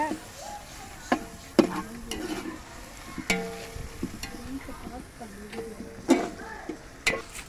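Tomatoes sautéing in a pan for a kids' homemade mixed rice dish, a soft low sizzle under repeated sharp spoon scrapes and taps against the pan at an irregular rhythm, quiet and close.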